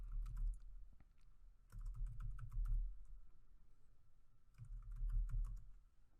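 Short bursts of keystrokes on a computer keyboard as a new field name is typed into a PDF form builder, three clusters of clicks separated by brief pauses, close and fairly quiet with no talking.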